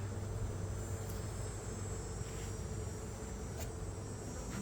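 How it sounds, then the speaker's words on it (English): Honeybees buzzing around an opened hive during an inspection in a nectar dearth, a continuous close droning hum of many bees with no voices. "There's a lot of bees."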